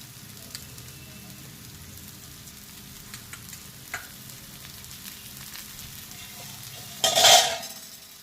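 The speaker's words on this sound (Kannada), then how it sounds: "ಮೀಡಿಯಂ ಫ್ಲೇಮಲ್ಲಿ ಫ್ರೈ ಆಗಲಿ ನೋಡಿ" Fish fries in oil on a tava over a medium flame, a soft steady sizzle with a few light clicks, then a brief louder burst of spattering and scraping near the end, close and without speech.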